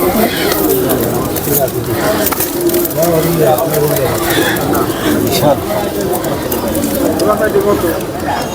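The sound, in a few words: pigeons cooing at a pigeon market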